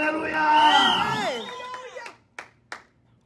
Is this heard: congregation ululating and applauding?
yes